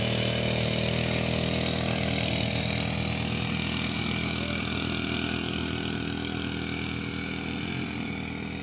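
A four-stroke boat engine runs at a steady pace, giving a loud, even, buzzing drone close by with no pauses and no talk.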